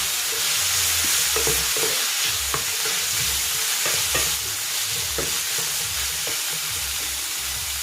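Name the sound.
ground meat sautéing in a pan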